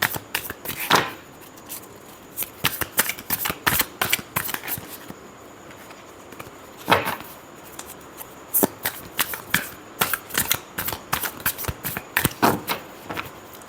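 Tarot cards shuffled by hand in repeated quick riffling bursts and slaps, close and moderately loud, with brief pauses between shuffles and no talking.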